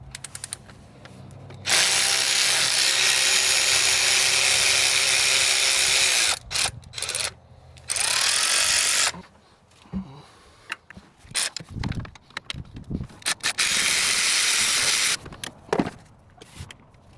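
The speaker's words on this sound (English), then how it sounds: "then just take these bolts off and undo the whole coil rail" Ratchet wrench removing bolts from a car engine's coil rail, with long fast ratcheting runs broken by pauses, clanks and tool handling, close and loud.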